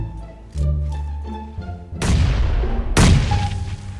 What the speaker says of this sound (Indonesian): Siapa yang lempar granat di sini?